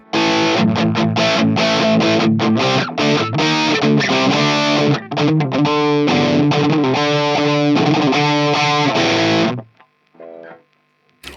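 Heavily distorted electric guitar chugs and rings through a Randall RM100 amp with a Synergy BE module, in choppy bursts, loud and close, then cuts to near silence at the end.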